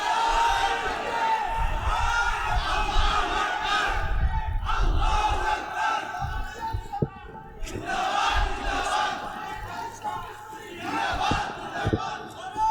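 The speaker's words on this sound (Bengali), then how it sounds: "আমরা এই ফাঁকে একটা স্লোগান দিয়ে আজকে সম্মানিত মেহমানকে বরণ করছি।" A crowd at a religious gathering in Shahbagh, Dhaka, chants a slogan together to welcome an honoured guest, with loud massed voices rising and falling in repeated bursts across the whole stretch.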